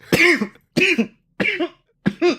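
Four short, harsh coughs come one after another at close range, each a sharp burst separated by brief pauses.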